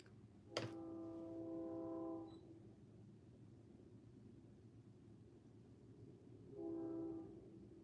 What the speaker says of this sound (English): Can y'all hear the train coming?